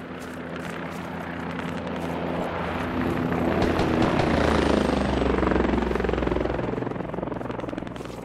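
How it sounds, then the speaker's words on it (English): Helicopter in the military game Squad passing overhead, a steady rotor and engine roar with low blade thump that swells louder toward the middle and eases off at the end, with no talk. "We don't need to shoot the helicopter unless we can get a kill on it."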